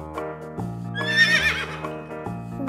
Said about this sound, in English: One horse.